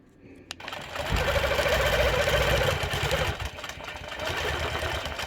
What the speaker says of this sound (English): So I'll be stitching all the way down to this curved stitch line